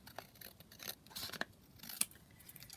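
Scissors trim paper for a beginner's junk journal, several quiet, crisp snips at an uneven pace close by, with no talking.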